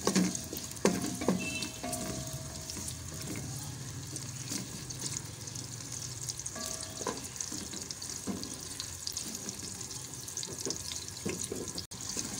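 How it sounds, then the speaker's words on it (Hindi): Onions and spices fry in a hot pan, giving a continuous close sizzle broken by a few stirring knocks and scrapes of the spoon, with no speech. "सबसे पहले डालेंगे प्याज हमारा अच्छी तरह गोल्डन हो जाएगा, इसमें डालेंगे मसाले।"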